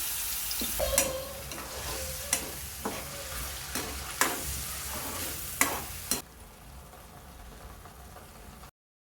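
Green chillies fry in oil, sizzling steadily in a pan, with repeated sharp scraping strokes of a spoon stirring; the sizzle continues alone after the stirring stops.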